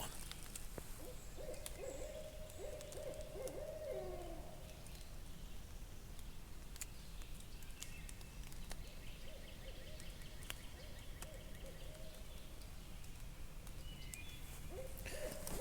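An owl hoots in the woods on an Indiana spring morning, with turkeys gobbling nearby, a few soft hoots rising over steady outdoor ambience across the span, distant and moderately faint.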